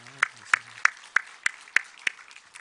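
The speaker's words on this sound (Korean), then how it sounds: "우리 하나님 영광의 박수 한번 더 다시 올리겠습니다" Church congregation clapping at a Sunday morning worship service: about eight distinct, evenly spaced claps in a slow rhythm, moderately faint, with a brief voice near the start.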